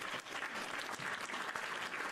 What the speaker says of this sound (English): Can we give a round of applause to Jaden for making it to the 5th grade?